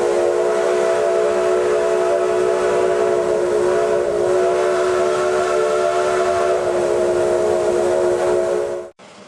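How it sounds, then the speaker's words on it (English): A steam locomotive whistle on a redwood forest railway blows one long, loud, steady chord of several tones, held for about nine seconds before cutting off abruptly, with no talking. "If you love the sound of a steam engine whistle, this trip won't disappoint."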